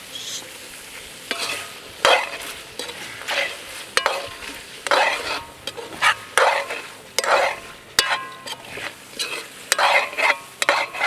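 Mutton gravy with curry leaves is stirred in a pan, a steady sizzle of frying broken by repeated scraping strokes of the spoon against the metal, close and loud with no talking.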